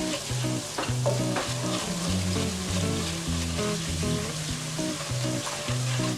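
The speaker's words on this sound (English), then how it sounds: "You can go in with your turmeric. I like to toast mine for a little while." Turmeric toasting in a pan for a vegan curry, giving a steady sizzle and frying hiss with repeated stirring scrapes throughout, close and continuous, no voices.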